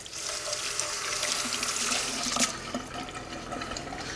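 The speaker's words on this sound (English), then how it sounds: "Take a moment, wash our hands" Hands are washed under a running kitchen tap, a steady splashing hiss of water into a sink with no talking.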